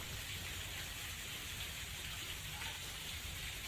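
Light rain falls steadily in Gujarat, a soft even hiss of drops with a low rumbling undertone that stays constant throughout, with no voices.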